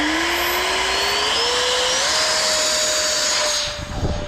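A 3D printed RC Gripen jet's motor spools up outdoors into a steady, loud rising whine that climbs in pitch and holds before dropping off at the end, with no talking.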